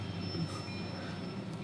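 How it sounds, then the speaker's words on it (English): A train passes on a railroad nearby with a steady, loud rumble and rolling rattle of cars that holds even through the whole stretch, with no voices. "I wonder how long the train is itself."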